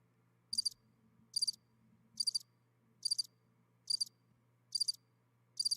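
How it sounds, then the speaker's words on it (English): Crickets chirping in short regular bursts, about one per second, over a quiet low hum. "You get crickets."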